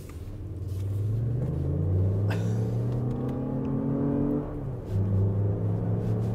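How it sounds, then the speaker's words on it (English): A 2024 Lexus RX 500h F Sport hybrid SUV drives in sport mode, its engine rumbling steadily and loud from inside the cabin, the tone climbing as it accelerates, easing briefly, then pulling strongly again. "Let's put it back into that sport mode. Let's feel how it goes around some corners"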